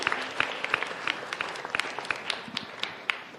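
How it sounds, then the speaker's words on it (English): Audience applause for a panel of Nobel laureates at a live-streamed science and innovation session in Timor-Leste, steady and moderately faint, with individual sharp claps standing out throughout. "let us give a round of applause to distinguished panelists here"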